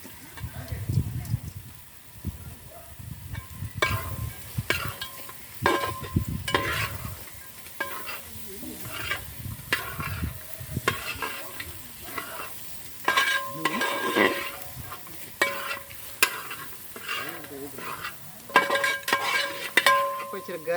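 Chicken stirred and frying in a pan for a Kerala-style coconut milk chicken roast: steady sizzling under repeated scraping and clinking strokes of a spoon against the pan, with a person talking intermittently.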